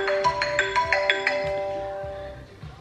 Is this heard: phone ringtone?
yes